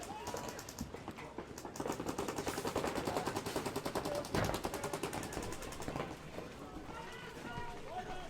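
Paintball markers fire in rapid bursts during a tournament paintball match, a dense rattling volley of close and distant shots with commentators talking over it throughout.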